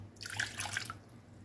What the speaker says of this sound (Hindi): सबसे पहले आधा कप नीम गरम दूध वो डाल दें एक बाउल में।